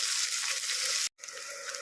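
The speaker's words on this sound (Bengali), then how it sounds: "একটু বেশ লাল লাল করে ভেজে নেব পেঁয়াজ কুচিটাকে" Chopped onions sizzle steadily in hot oil, frying until reddish-brown, a dense crackling hiss that cuts out for a moment and then resumes.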